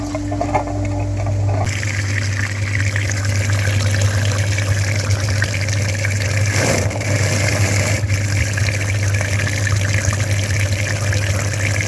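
Coolant flushing machine running steadily while hooked to the heater core radiator of a VW Passat B8 or Golf VII, a continuous motor hum with rushing, trickling liquid flow throughout, loud and close.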